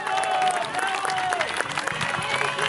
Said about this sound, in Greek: Δυνατό χειροκρότημα για τα κορίτσια.